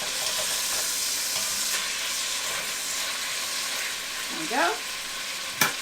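Chicken frying in a pan, a steady close sizzle and hiss of hot fat running throughout, with a brief spoken word and a few clinks and scrapes of a utensil toward the end.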